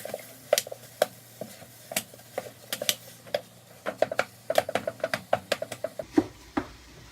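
Meat for spaghetti is stirred and mixed in a pan, with a quick series of close, sharp utensil clicks and scrapes against the pan over a faint sizzle.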